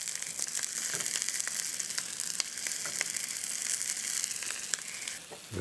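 Curly hot dogs brown in a hot pan with some onion, making a loud, steady, close sizzle with scattered sharp crackles and pops that drop away briefly near the end.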